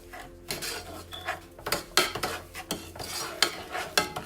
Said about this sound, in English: we're going to give that a good stir